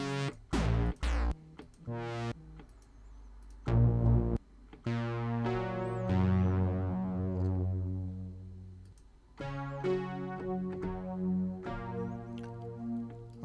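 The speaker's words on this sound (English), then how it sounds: "It's very analog-y brass." Analog-style brass synth patch from Omnisphere 2.5 plays short chord stabs and longer held chords with falling pitch sweeps, separated by brief silences, clear and alone.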